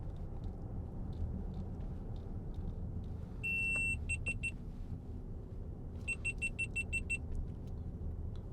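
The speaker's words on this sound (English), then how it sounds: "That's one of my cameras overheating." Overheating camera warning in a quiet 2015 Range Rover SD V8 Autobiography: two clusters of sharp, high electronic beeps, a brief run then a longer rapid series, over a low steady cabin hum.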